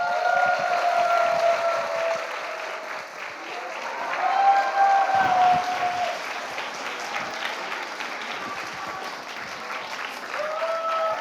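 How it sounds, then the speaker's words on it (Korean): Sustained, loud audience applause with some cheering fills a church hall as a guest is welcomed onto the stage at a Christian testimony and talk concert; the clapping swells midway and keeps going throughout. "강균성 형제님을 앞으로 모실 때 여러분 큰 박수 부탁드립니다."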